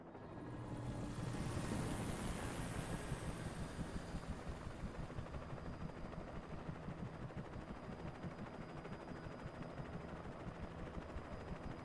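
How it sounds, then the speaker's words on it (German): Police helicopter in the video game Alan Wake: a steady, pulsing rotor chop that swells in and then holds loud and continuous, with a thin whine above it. "Jetzt kommt sogar mit Helikopter."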